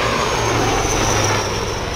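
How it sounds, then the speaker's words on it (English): Indian Air Force Prachand light combat helicopter running close by, a loud, steady broadband engine and rotor roar with a low droning hum, continuous and without speech. "Prachand for the light combat helicopter that you can see behind me now"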